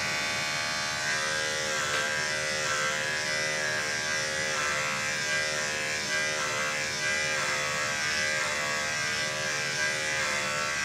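Electric hair clipper fitted with a number five (1/8 cut) guard cutting hair, giving a loud, steady close-up buzz that holds evenly throughout with slight texture changes as it passes through the hair, no speech.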